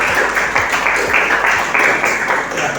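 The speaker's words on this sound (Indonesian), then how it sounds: "Kita berikan tepuk tangan." Class applauding the best group, a short burst of steady clapping from many students in a room, fairly loud with rhythmic hand claps standing out.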